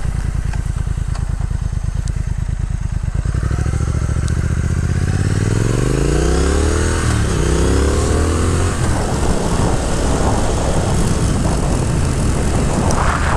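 A 2022 Triumph Speed Twin's engine drones loudly and steadily while riding on country roads, rising in pitch as it accelerates, with heavy wind rush throughout.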